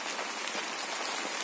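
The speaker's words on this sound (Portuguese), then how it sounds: "Caindo aqui a chuva em cima de mim." Rain falling on a banana agroforestry plantation, a dense, even hiss of drops hitting leaves and surfaces close by, constant and fairly loud with no voices.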